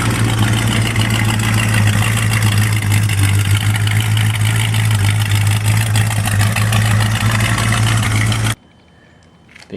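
A 1972 Gran Torino Sport engine holds a steady, loud fast idle with a strong low hum for most of the stretch, then cuts off abruptly near the end, leaving near silence.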